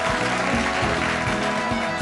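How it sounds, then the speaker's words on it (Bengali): A television game show studio audience applauds, a dense, loud, steady wash of clapping that fills the whole short stretch with no talk over it. "জোরে একটা হাততালি"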